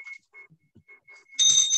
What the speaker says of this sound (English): let us share all names together of those we pray for as we ring the bells